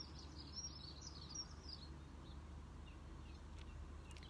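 Several birds sing and chirp outdoors, quiet and somewhat distant, the high calls rising above a steady low background hum with no talking.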